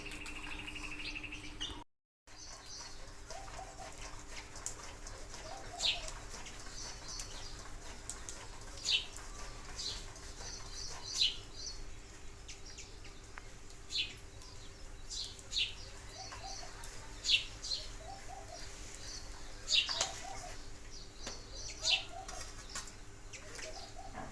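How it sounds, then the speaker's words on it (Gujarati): A sukri bird calling outdoors in a quiet village, short chirps and soft coo-like notes repeating every few seconds at a moderate distance over faint background hum. "જો હમણાં સુકરી પક્ષી તમને બતાવું"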